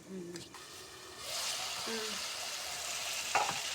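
Flat beans (shim) sizzling steadily in a hot pan while being stirred, a continuous bright frying hiss with a few scraping stirs and brief tonal clinks near the start.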